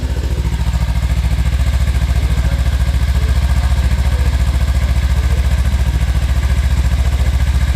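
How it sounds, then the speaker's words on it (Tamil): A 2021 Kawasaki Ninja 300 BS6 motorcycle idles steadily after starting, its twin-cylinder exhaust giving a loud, close, even pulsing throb that holds for several seconds. "வந்து நான் வண்டியை ஸ்டார்ட் பண்ணி காமிக்கிறேன்"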